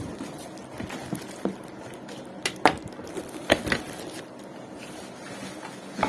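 Plastic mixer grinder jars and lids are handled close by, giving a series of light knocks, taps and clicks at irregular intervals over a quiet room background.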